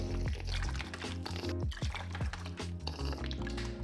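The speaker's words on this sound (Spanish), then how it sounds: "Vamos a agregar nuestro aceite y calentarlo muy bien." Cooking oil pours into a pan for frying traditional falafel, a steady close glugging pour with liquid gurgles and light splashes, heard alone without talk.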